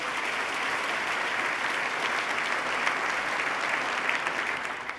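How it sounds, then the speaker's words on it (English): A large audience at a governor's State of the State address breaks into sustained, dense applause, loud and even throughout with no pauses. "Let's give Abby a round of applause"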